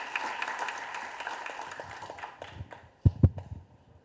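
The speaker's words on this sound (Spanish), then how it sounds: "Por favor, aplausos para el siguiente expositor." Audience applause at a legal lecture on civil procedure, moderate clapping that thins and fades out, followed by a few louder close knocks or handling bumps near the end.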